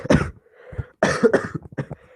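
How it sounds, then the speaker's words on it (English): Harsh, close coughing in two bursts, a few rough hacks each, with a throaty rasp trailing off at the end. "I'm coughing."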